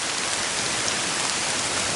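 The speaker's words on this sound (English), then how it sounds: "But it's raining, temperature's dropping rapidly." Steady rain falls on a hot day at a bushcraft camp, a dense, even hiss of drops close by with no voices.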